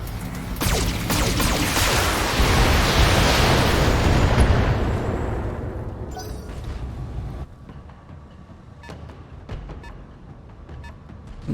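Mech weapons in the BattleTech video game fire in a loud sustained barrage that swells into a roaring explosion and then fades, with sharp crackles and clicks trailing off at the end.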